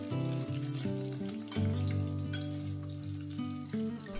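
Potatoes cook in hot oil with fish head and panch phoron for a pumpkin and Malabar spinach chorchori, a soft continuous sizzle beneath louder background music.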